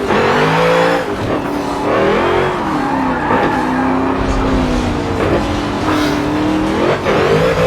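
A race car in a racing video game slides through corners, with a loud, steady engine drone whose pitch swings up and down alongside rising tire squeal, without a break.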